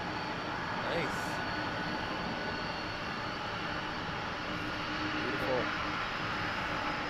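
A FedEx airplane at Toronto Pearson airport gives a continuous engine rumble and roar at moderate distance, heard under brief spoken remarks.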